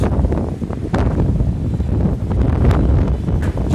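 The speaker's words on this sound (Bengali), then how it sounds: "বিশাল ঝড় হইতেছে" A strong storm wind batters the microphone with loud, continuous low rumbling and gusty buffeting, without speech.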